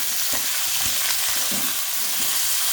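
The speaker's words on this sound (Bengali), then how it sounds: "আলুগুলো দিয়ে ভালোভাবে আমি ভেজে নেব" Diced potatoes fry in hot oil with cinnamon, whole dried red chillies and bay leaves for a cabbage dish, giving a steady, close sizzle with scattered soft stirring knocks and no voices.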